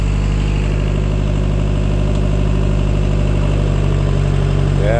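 A Bitelli BB642 gas-powered asphalt screed's engine runs steadily at a close, loud idle, a constant low mechanical drone with vibration throughout and no pauses.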